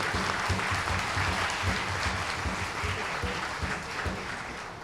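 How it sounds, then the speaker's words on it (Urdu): Dense, continuous clapping from an audience at a school celebration for students, a thick even roar of many hands at steady volume throughout, easing slightly at the close. "تو تمام یہ تالیاں بجا کے یہ ثابت کریں"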